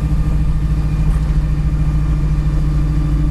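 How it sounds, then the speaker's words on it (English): A steady engine drone from a 1967 Chevrolet Camaro with a faint high whine from the timing chain gear drive running through it, continuous and fairly loud, no voices. "The whining sound you hear is the gear drive on the timing chain."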